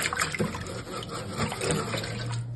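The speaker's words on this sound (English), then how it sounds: "Stir it around." Salted water sloshes and swirls in a cooking pot as it is stirred for tamales, a close, continuous watery churning with small splashes.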